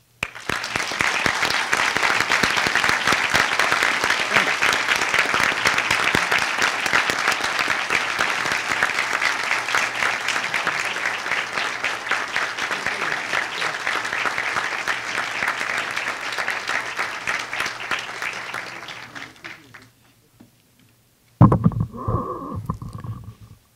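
Rousing applause from a large Charter Day audience at St. Francis College, a dense sustained wash of clapping that fades out before a brief burst of a closer sound near the end.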